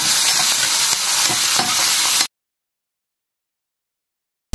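Garlic sizzles and crackles in hot oil for a lemon rice tempering, a steady close frying hiss broken by a few stirring knocks. After about two seconds the sound cuts off into silence.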